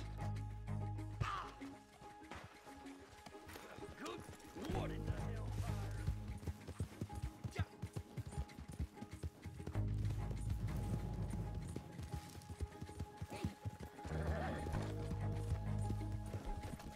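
Horse hooves clip-clopping at a gallop in the Red Dead Redemption 2 Online video game, a steady loud rhythm with game music underneath, running nearly the whole time with brief pauses.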